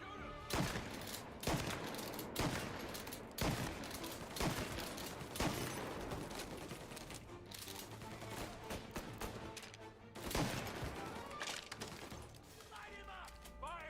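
Repeated bursts of gunfire ring out in Mafia Definitive Edition, loud and close, broken into several volleys with short gaps, over busy game sound and with voices talking throughout.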